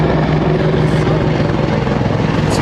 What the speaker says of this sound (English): More medevac helicopters poured into the valley.